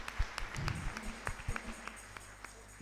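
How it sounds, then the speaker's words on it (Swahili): A church congregation at a Kikuyu cultural Sunday service claps in praise, scattered sharp hand claps and a few rhythmic bursts, fairly faint and thinning out over a low murmur. "tumpigie Bwana makofi once again."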